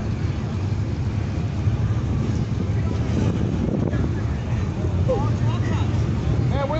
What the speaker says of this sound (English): where'd that wind come from all of a sudden?